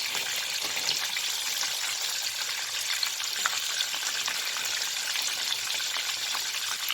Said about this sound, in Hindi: इसको अब हम अच्छी तरह से फ्राई करेंगे ताकि अंदर से अच्छी तरह से कुक हो जाए